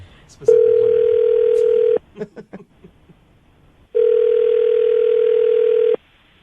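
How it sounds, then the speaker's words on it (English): Two long, steady electronic ringing tones on a telephone line, separated by a pause with brief faint sounds between them. "I'm going to call him right now"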